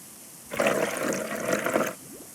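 Pressure washer spray in a fire department cleaning level of a power-washing game, a steady hissing burst of water lasting about a second and a half, then cutting off.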